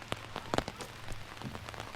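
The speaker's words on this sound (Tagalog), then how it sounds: "Palakas pa ng palakas yung ulan." Rain patters on a surface nearby in dense, irregular taps, a fairly soft but steady downpour with a few sharper drops standing out, no voices.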